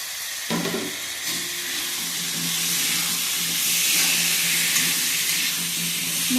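Green peas fry with tomatoes and spices in a pan for an Assamese fish curry, a loud, steady, close sizzle and steamy hiss that swells slightly and holds for over six seconds.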